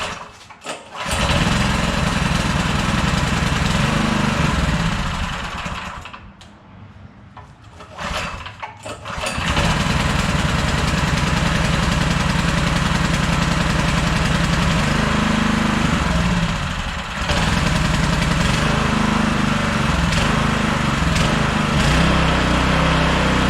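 A small semi-trash water pump engine, just back in service after a carburetor cleaning, starts and runs loud and steady close by, briefly dipping and faltering midway before settling back into a continuous drone.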